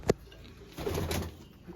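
Domestic pigeons in a breeding loft give a short, close coo near the start, followed by softer bird murmuring and rustling.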